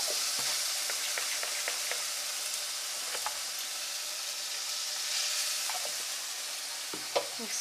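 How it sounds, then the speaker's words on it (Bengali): Mustard and poppy seed paste with green chilli frying in a pan for a pomfret curry, a soft steady sizzle with occasional stirring clicks, close and continuous with no voices. "এবার মশলাটা সর্ষে পোস্তটা একটু কষিয়ে নেব।"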